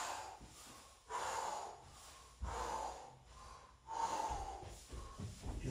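Heavy, rhythmic breathing during a bear crawl exercise, with close, faint breaths repeating roughly every second and a half, no talking.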